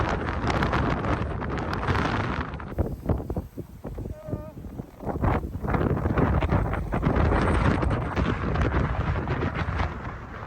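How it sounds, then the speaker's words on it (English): Strong gusting wind buffets the microphone with a heavy, continuous low roar while walking toward a beach on a rainy day, loud throughout and nearly masking everything else. "It got very windy as we are walking toward the beach."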